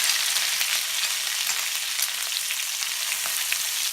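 Crushed shallots fry in hot oil in a pan with mustard seeds, giving a steady, loud, close sizzle with fine crackling throughout and no voices.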